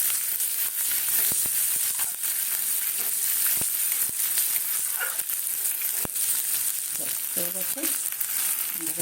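Soybean manchurian with sesame seeds frying in a pan sizzles steadily up close, broken by several sharp spatula clicks and taps as it is stirred.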